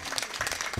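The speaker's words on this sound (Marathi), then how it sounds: "टाळ्या वाजवा त्यांच्याकरता" Crowd applause at a kirtan gathering in Mahajanwadi, a dense, sustained wash of many hands clapping together for a moment.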